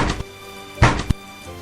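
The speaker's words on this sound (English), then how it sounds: "But the knock came again," A few dull knocks on a wooden door, spaced irregularly, close by with nothing else around them.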